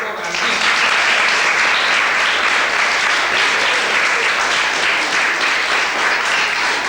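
Loud, dense applause from an audience at a school event at Colegio Niño Jesús, sustained and even across the whole stretch with no pauses.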